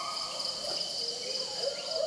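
Continuous high-pitched insect chirring, like crickets, holds steady throughout with faint lower calls drifting underneath.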